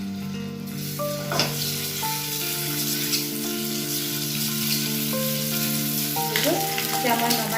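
Masala paste thinned with water sizzles steadily in a frying pan, a continuous close hiss with a few soft bubbling bursts, running beneath sustained tonal background music.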